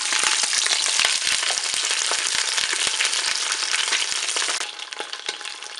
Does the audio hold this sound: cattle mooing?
no